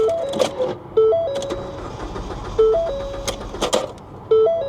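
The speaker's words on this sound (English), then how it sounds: "It sounds like it cranks fine." A car's starter cranks repeatedly without the engine catching, four or five whirring bursts separated by short pauses, close and fairly loud with clicks between attempts.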